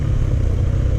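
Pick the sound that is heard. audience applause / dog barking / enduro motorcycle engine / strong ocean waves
enduro motorcycle engine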